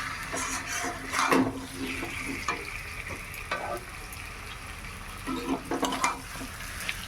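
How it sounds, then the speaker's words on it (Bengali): Marinated chicken with turmeric, chilli, cumin, coriander, garlic and a small tomato fries in a pan with a steady sizzle, broken by repeated scraping stirs of a spoon, close and loud. "এবার আমি ম্যারিনেট করা মাংসটা দিয়ে দেবো।"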